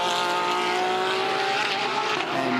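GT race cars at the Bathurst 12 Hour, a Porsche chasing a Mercedes AMG, with loud sustained high-revving engines whining close by throughout.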